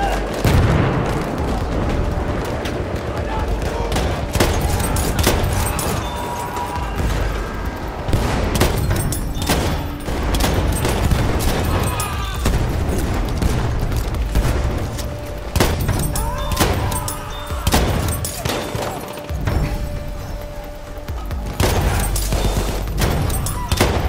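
Rapid shotgun blasts in a Battlefield match on Fort de Vaux crack out as a steady stream of sharp, loud shots over constant battle noise and explosions throughout.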